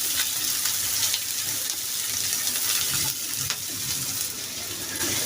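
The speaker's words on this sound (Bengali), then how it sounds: "এখন পেঁয়াজ রসুনকে আমি খুব সুন্দর গোল্ডেন ব্রাউন কালার করে ফ্রাই করে নেব" Onion and garlic frying with dried red chillies in a pan for a hotel-style mixed vegetable dish, a steady dense sizzle with faint crackles running throughout, close and unbroken.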